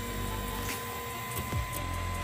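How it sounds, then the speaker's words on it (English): A ToyClip 2 3D printer's print head shifting position after a completed print, giving a steady mechanical whir with a low motor hum and brief sliding sweeps, fairly close and with no talking. "The print head is just gonna move out of the way."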